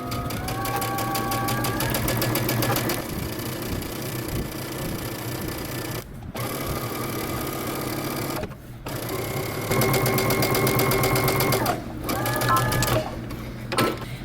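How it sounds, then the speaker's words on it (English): A sewing machine runs continuous stitches around a shirt dress edge, humming steadily up close with a few brief pauses and restarts between bursts. "I'm going to stitch all the way around."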